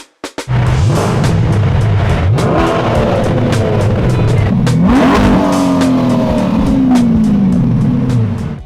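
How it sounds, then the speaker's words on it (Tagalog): A Chevrolet Corvette C8 revs hard and accelerates close by, its engine note climbing and dropping through several gear pulls over roughly eight seconds, loud and continuous with no talk over it. "Ganun pala yung tunog ng C8."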